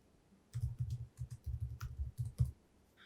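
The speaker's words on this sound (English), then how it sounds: "here you can type your file's name, print design for instance" A computer keyboard typed on to enter a file name in Photoshop, with a quick uneven run of soft clicking keystrokes, close and quiet, no talk.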